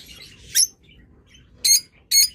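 Birds in a seller's enclosure let out three sharp, harsh squawks: one short burst, then after a pause two more in close succession. Each call is loud and near, with faint background noise between them and no talk.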